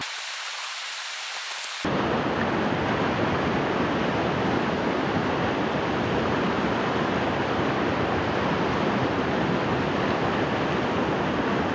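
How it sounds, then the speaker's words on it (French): Mountain torrent water rushing loudly and continuously close by, a dense steady roar that starts abruptly after a brief quieter moment, with no talking. "Là on a acheminé jusqu'au torrent."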